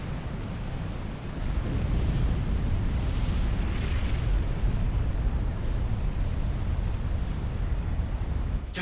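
Nuclear missile launch in the strategy game Supreme Commander, a heavy low rumbling roar that swells within the first second and then holds as a loud, sustained blast without pause.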